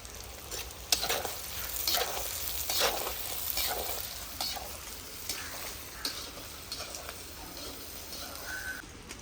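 Dried red chillies fry in oil with already sautéed onion and garlic for chicken chinthamani, a continuous close sizzle broken by sharp stirring clanks, with a crow cawing faintly in the background.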